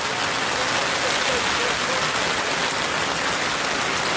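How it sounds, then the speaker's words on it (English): Steady rain falls at an outdoor soccer match, a dense even hiss of drops on surfaces that continues unbroken at fairly loud level, with no clear voices. "the rain slightly died down"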